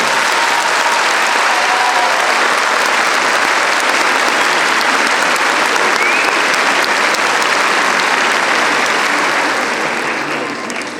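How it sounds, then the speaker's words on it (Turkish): A graduation audience at an education faculty ceremony applauds to thank the parents, dense and loud, sustained steadily for about ten seconds before easing slightly at the end. "velilerimize büyük bir teşekkür alkışı yapmanızı istiyorum"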